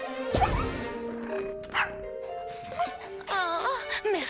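Cartoon puppies in an animated children's show yip and bark in a few short, high, bouncy bursts, mixed with whooshing sound effects and music-like tones.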